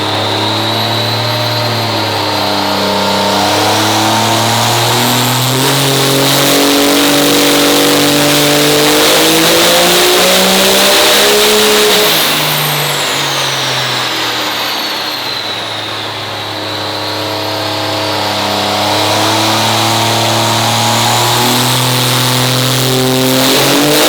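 A 1972 high-horsepower car engine revs hard on a dyno, loud and close, with sustained rising and falling pulls, a brief dip near the middle, then climbing again.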